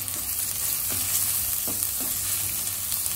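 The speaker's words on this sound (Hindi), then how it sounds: "हम सबसे पहले अनियन फ्राई कर लेंगे." Onions frying with ginger garlic paste in a kadai give a steady, dense sizzle with a few soft stirring scrapes, close and continuous, with no voices.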